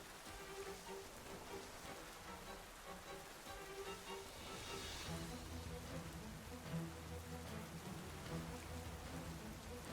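Rain weather effect in a Pokémon draft league battle, heard as a steady, dense hiss of falling rain that runs the whole time, with soft game music underneath.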